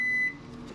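A TENS therapy unit gives a single short electronic beep, clear and close, then fades to a quiet room hum.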